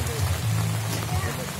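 Rain falls in a dense steady patter at a seaside village tourist spot, with a low hum underneath.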